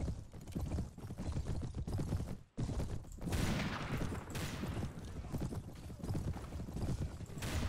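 Rapid pistol gunfire in the Mount and Blade Warband game, 1860s Old America mod, cracking in a fast, almost continuous burst over dense battle noise with a brief gap early on.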